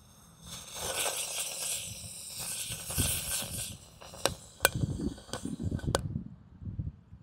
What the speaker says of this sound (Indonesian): ada gangsing jumbo pretek, gangsingan yang paling besar guys. Ada pretek-preteknya, kita nyalakan di dalam kuali ini